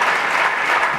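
A church congregation at a seminar breaks into a short, loud burst of dense clapping that fills the room.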